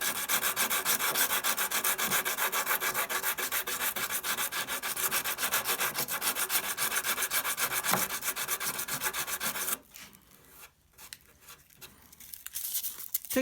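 A wooden guitar headstock held in a vise and sanded by hand to smooth it, making a steady, close, continuous rasping scrub that stops abruptly near the end, leaving only faint scattered handling sounds.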